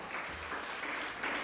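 A seated audience at a Jain religious discourse claps together in a brief burst of steady, dense applause, fairly close and without speech over it.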